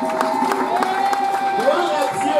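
Church congregation cheering and acclaiming Jesus, a crowd of voices whooping and shouting with scattered claps, close and continuous, with talk mixed in.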